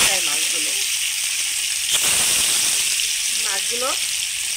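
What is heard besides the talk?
marinated chanda fish frying in hot oil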